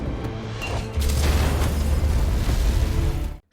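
A landmine bomb detonates in an action film, a heavy booming blast with a deep rumble that swells and sustains loudly for a few seconds before cutting off abruptly.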